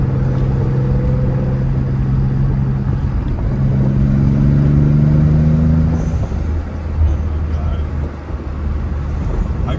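A Nissan 300ZX twin turbo engine hums low and close, climbing through a short rev midway and then dropping back to a deeper idle-like rumble.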